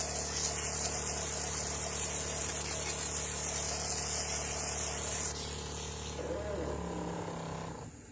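A liquid pump on a system with an air leak runs after being rinsed clean of soap. It hums and churns steadily up close with water sloshing, then winds down and falls quieter near the end.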